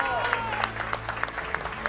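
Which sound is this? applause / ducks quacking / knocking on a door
applause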